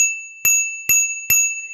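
A bicycle bell fitted to an electric unicycle rings three times, each a crisp metallic ding with a long ringing tail, evenly spaced and close, with nothing else around it.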